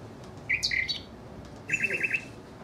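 Short bursts of nightingale song ring out as two bright phrases, the second a quick rhythmic trill of repeated notes, moderately close over a quiet background with no talk.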